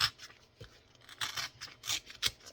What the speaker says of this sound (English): I'm just gonna rip this in half.